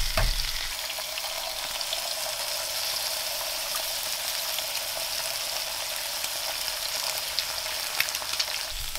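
An egg and a burger patty fry together in a hot pan, giving a loud, continuous, crackling sizzle heard alone and up close from start to finish.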